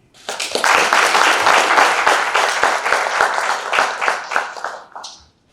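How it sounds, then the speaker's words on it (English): An audience at a women's football program launch applauds steadily for about five seconds, a dense wash of many hands with some louder individual claps, then fades out. Loud, with no one speaking over it. "May we give a huge round of applause for the women"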